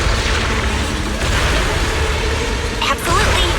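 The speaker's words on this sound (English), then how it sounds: "Explosions." Explosion in the video game Zenless Zone Zero: a dense, loud roar of blasts and rumbling bursts fills the whole moment, with a brief dip near the end before it surges again.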